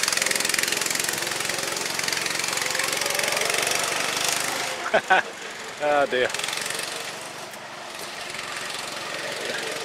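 An old junk tractor engine runs loud and steady after being shifted hard into fourth gear on a driveway, with a short spoken exclamation and a couple of sharp clunks breaking through midway.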